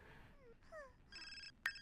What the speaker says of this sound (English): There's a lot of ringing phones